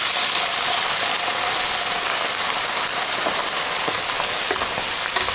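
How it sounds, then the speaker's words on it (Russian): White wine hits browned vegetables in a hot pan while making a sauce for oven-roasted duck, giving a loud, dense, continuous sizzle and crackle with no voices. "Теперь берем белое вино и заливаем все это белым вином."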